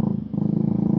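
Motorcycle engine in traffic just ahead, a steady nearby idling drone with a slight pulsing rhythm, heard alone without talk.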